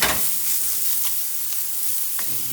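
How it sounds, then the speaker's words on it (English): Shiitake mushrooms sizzle steadily in a hot pan, a close, bright frying hiss broken by a few soft scrapes and rustles as they are tossed. "those shiitakes haven't moved in about a minute now, so I'm going to toss them around"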